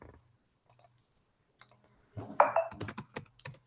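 Sparse, faint key clicks on a computer keyboard while code is entered, building into a denser run of keystrokes toward the end, close by and quiet.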